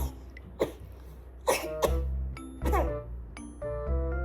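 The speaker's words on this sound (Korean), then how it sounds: "입 가리고 기침했어" A child gives several short, scattered coughs over soft ringing chime tones that sound in the background.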